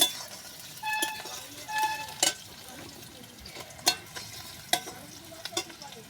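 Onions frying for a rooster chicken curry, a soft continuous sizzle under intermittent spatula scrapes and metallic clinks against the pan, close and fairly quiet.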